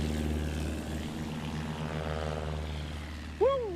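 STOL propeller aircraft with leading-edge slats, forward gear and a big climb prop flying in to land at a National STOL competition in Central Florida, a steady droning engine hum with a sudden sharp rise near the end.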